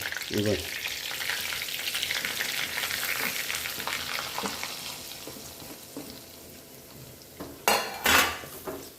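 Ground masala of turmeric, red chilli, coriander powder and chilli fries in oil in a pan, a steady close sizzle with scraping stirs, ending in two louder metallic clatters of utensil on pan.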